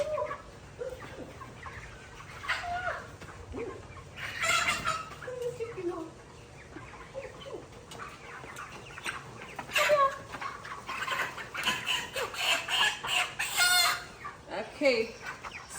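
Five-week-old broiler chickens cluck and squawk in agitated bursts as one is caught on a farm, close and busy, with scuffling and occasional human voices in the pen.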